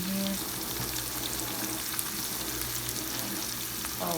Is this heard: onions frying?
yes